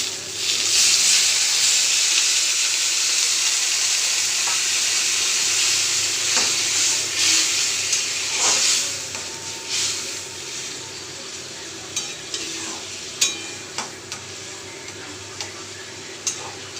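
Spiced puffed rice (muri ghonto) curry simmering in a pan after water is added, a steady close bubbling hiss with scattered pops that thin out toward the end.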